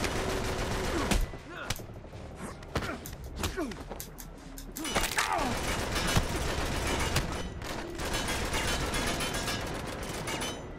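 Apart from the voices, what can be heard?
gunfire in the video game Uncharted 3: Drake's Deception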